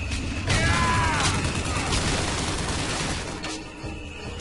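Gunfire in the video game Bioshock Infinite, a short burst of weapon shots and mechanical clatter up front that thins out into quieter game ambience.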